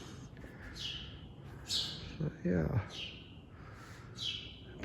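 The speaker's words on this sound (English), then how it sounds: "Lots of sparrows." Sparrows chirp in an open courtyard space, brief high tweets recurring every second or so at moderate distance, while a person briefly speaks in the middle.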